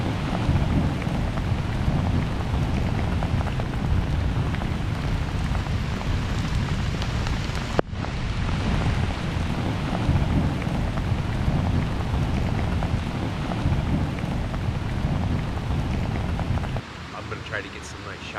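Steady rain pours onto a campsite tent and tarps, a dense continuous patter close by with a low rumbling underlayer, one brief sharp knock midway and a slight drop in intensity near the end.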